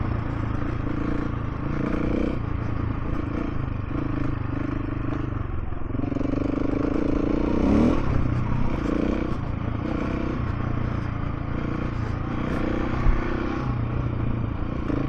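A 2024 KTM 690 Enduro R single-cylinder motorcycle cruising on a road, a steady engine drone under constant wind rush with a brief clatter midway.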